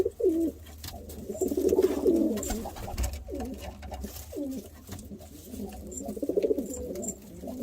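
High-flyer pigeons cooing in a crowded breeding loft, repeated low throaty coos in overlapping bursts from several birds nearby, with light rustling and faint background chirps.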